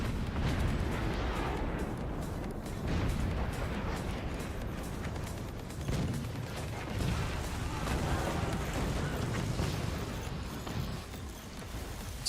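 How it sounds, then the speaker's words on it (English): Cannon shells exploding in the physics-based strategy game Forts, a dense, continuous barrage of rumbling blasts and crackling bursts that stays loud throughout. "It's a lot of cannon shells inbound."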